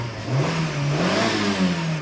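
A Peugeot 301 1.6 engine with a misfire on the first cylinder revs up and settles, its mid-range drone rising and falling close by with no talk.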